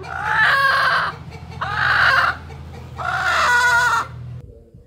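A country hen clucks in three drawn-out, loud bursts close by, with quieter gaps between and a low background hum.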